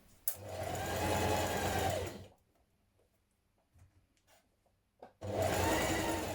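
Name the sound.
sewing machine stitching a blouse facing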